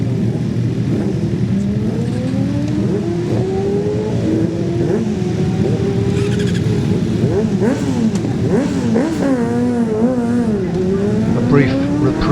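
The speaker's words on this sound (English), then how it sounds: "Adam Jones on his green Kawasaki approaches the line." A green Kawasaki racing motorcycle on the Manx Grand Prix road course, engine note rising and falling through gears as it nears, loud and continuous with a commentator talking over it.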